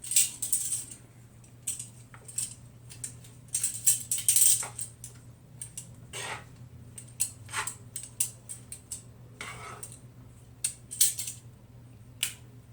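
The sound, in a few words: mixing zoodles and veggies in a pan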